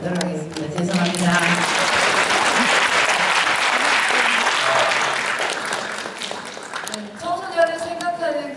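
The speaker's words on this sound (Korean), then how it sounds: "다시 한번 큰 박수 부탁드리겠습니다." Audience at a youth counseling volunteers' convention breaks into loud, dense applause that swells and then fades, with a speaker's voice over the start and the end.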